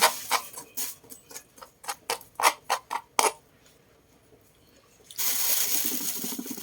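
A knife slices through soft boiled bamboo shoots on a board, a quick run of about a dozen crisp, close chopping taps, then a pause before a broad rustling noise.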